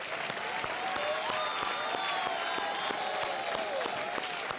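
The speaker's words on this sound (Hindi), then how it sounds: "एक बार फिर तालियों के साथ इनका अभिनंदन किया जाए" A studio audience on a TV quiz show breaks into steady applause, a continuous crowd of clapping hands with some louder individual claps standing out, sustained throughout at moderate level, with a faint tonal sound drifting underneath.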